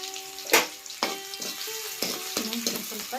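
Garlic and small onions sizzle in a pan of hot oil, crackling steadily with sharp bursts and stirring clatter as they go in, close and fairly loud.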